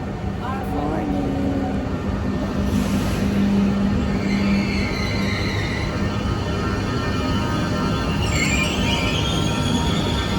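Passenger train running between Gallarate and Milano, a steady broadband rumble of wheels on rail with brief squeals, heard from inside the carriage with people talking over it.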